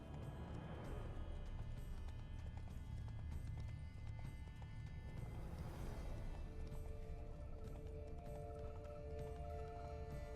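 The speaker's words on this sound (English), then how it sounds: "Run, Roach." Roach the horse gallops in The Witcher 3, hooves clip-clopping in a steady rhythm over a continuous game soundscape and music, with no one talking.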